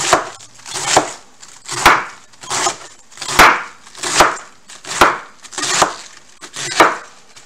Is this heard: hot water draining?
no